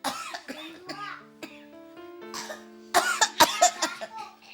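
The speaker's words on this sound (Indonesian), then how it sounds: "Hari itu ibunya batuk-batuk." A voice breaks into a cluster of short, rough coughs after some sing-song speaking, likely a person acting out the coughing.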